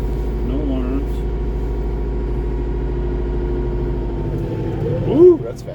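A utility tractor's engine runs steadily as the machine drives forward, a low continuous hum from inside the cab, with a brief voice rising near the end.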